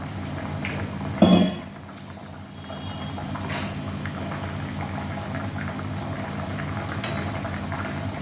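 Water goes into a pan of hilsa fish curry as it cooks, with a sharp clink of a utensil followed by a steady bubbling simmer up close, no voices.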